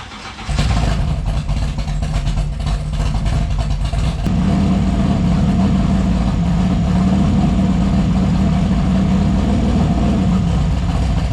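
A car engine catches and settles into a loud, steady run close by, holding a constant throaty drone for several seconds with no talk over it.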